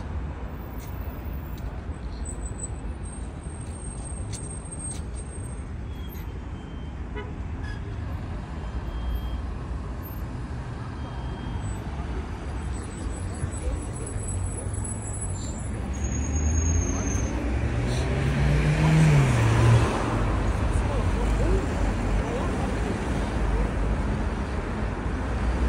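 Busy car traffic rolls through Dushanbe city centre near the Ismoili Somoni park, a continuous low rumble of passing vehicles that swells toward the end, with people talking over it.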